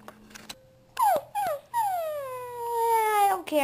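Cartoon dog in a kitchen gives a short yip, then drawn-out whining, whimpering cries that slide downward, loud and close with a steady hum underneath.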